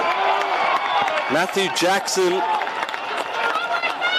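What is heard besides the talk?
Stone Cats football crowd cheering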